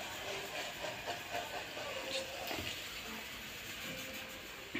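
Onions sizzling in a hot pan, a steady, close hiss of frying with faint crackles and pops running throughout, no talking.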